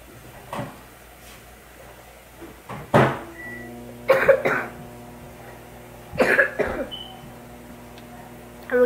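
Several short coughs come in separate bursts a couple of seconds apart, fairly close, with a quiet room between them.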